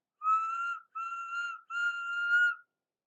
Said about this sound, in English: Thomas whistled to attract the signalman's attention.